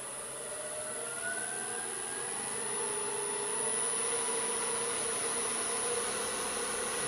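A wood lathe spins a white oak bowl with resin and gum balls at about 2000 rpm, giving a continuous high whirring hum that holds steady and swells slightly as it speeds up, with no voices.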